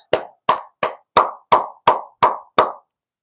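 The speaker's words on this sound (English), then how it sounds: "give yourselves a round of applause" Eight sharp, evenly spaced claps, each with a short ringing decay, during a livestream after a UFC fight night. They are loud, close and alone, with no talk.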